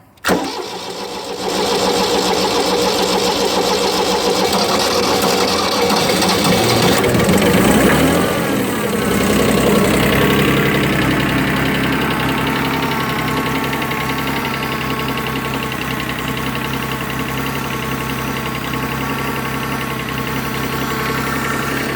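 A Kubota B20 compact tractor's diesel engine cranks briefly, catches and settles into a loud, steady, slightly knocking idle close by, running alone for about twenty seconds.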